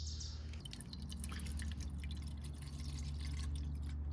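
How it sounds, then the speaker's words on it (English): A little water is poured around the sides of a soup pot in a van, giving a light splashing trickle with drip-like bursts over a steady low hum, close and unaccompanied by speech. "I'm gonna pour a little bit of water around the sides"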